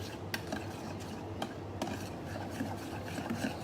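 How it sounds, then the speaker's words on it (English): A spoon scrapes and stirs cream, cheese and aubergine in a pan, with soft rubbing strokes and a few sharp clicks of utensil on metal, close up and fairly quiet. "We're gonna stir it nicely."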